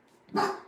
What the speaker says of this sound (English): we would be concerned about Archie if he didn't bark in your live